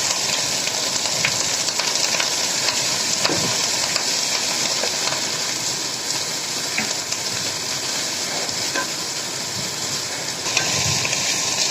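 Chopped onion frying in a pan with onion paste and ginger-garlic paste stirred in, giving a steady, close, continuous sizzle and hiss throughout, with no talking.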